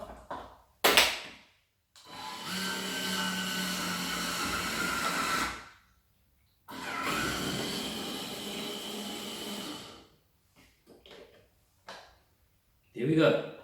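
An electric DNA citrus juicer squeezes an orange half, giving two sustained whirring motor runs of about three to four seconds each, broken by short knocks and clatter as the fruit is handled, with no talk.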